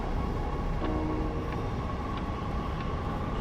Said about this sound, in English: Oh, it's on our train. Yeah, it's our train.